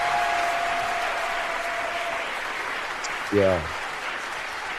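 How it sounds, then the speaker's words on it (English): Steady applause from a crowd during a radio show, with a voice briefly speaking over it. "Give us a round of applause."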